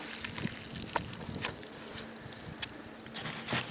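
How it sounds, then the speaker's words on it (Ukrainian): Water poured generously around the trunk circle of a hazelnut (filbert) tree, a soft continuous splashing trickle with a few faint knocks, close and without talking. "Для цього перед тим як носити добриво треба щедро залити водою пристовбурове коло."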